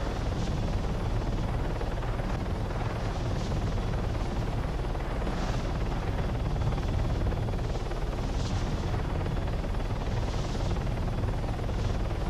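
Helicopter flying in a military video game, a steady loud rotor drone and engine roar that continues without a break, with no talk over it.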